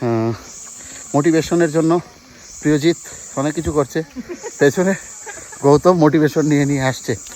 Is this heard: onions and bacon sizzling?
no